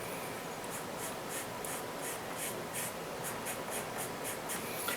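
A charcoal pencil sketching a bird nest on paper gives a steady, close scratching and rubbing, with repeated short strokes in a regular rhythm over a constant soft hiss.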